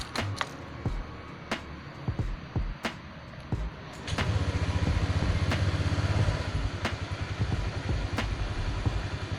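A Honda Vario 150 automatic scooter engine after light servicing cranks with a few sharp ticking turns, then catches and settles into a steady, close, throbbing idle with a regular mechanical clatter.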